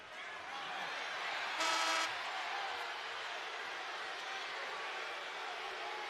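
Crowd at a high school state championship basketball game reacting to a foul call, a broad murmur of disapproval holding steady with a brief loud burst of noise near the start.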